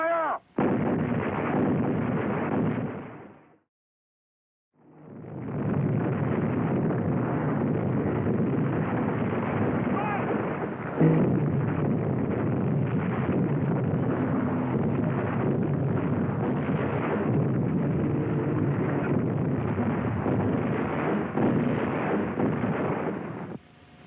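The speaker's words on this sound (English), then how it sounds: "Battery 1, fire!" An artillery battery fires in the desert at El Alamein, heavy booming blasts rolling into a sustained, rumbling barrage with one brief silent gap near the start, loud and dense throughout.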